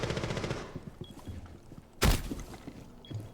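A single sharp gunshot cracks out in a video game midway through, loud and close, with quieter game sounds and clicks around it.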